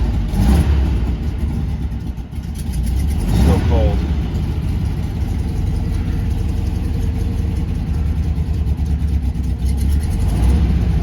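A 1966 Porsche 912 with carburetors in need of tuning starts and settles into a steady, close idle. The engine runs loud throughout, and a person speaks briefly over it.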